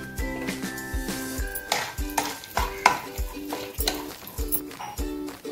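Chopped nuts and almonds fry in ghee while a spoon scrapes and taps the pan in a steady rhythm, with a soft sizzle running beneath the repeated metallic knocks.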